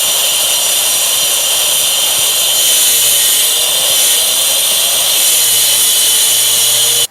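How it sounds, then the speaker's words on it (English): Angle grinder cutting a chase into a wall for a new socket, a loud constant high-pitched whine and grinding roar running without a break, close up and alone. "I'm guessing more DIYers are going to have access to a grinder like this, which will do the job just fine"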